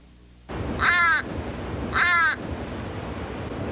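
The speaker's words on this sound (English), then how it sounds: "the American crow is most easily recognized by voice" An American crow gives two loud, harsh caws about a second apart, close and clear against a quiet outdoor background.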